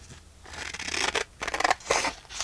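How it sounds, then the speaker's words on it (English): Scissors cut through a folded handmade journal card made from book pages, giving a run of close, crisp snips and rasping slices in uneven bursts with short pauses between strokes. "Folding this in half, and now I'm going to cut it."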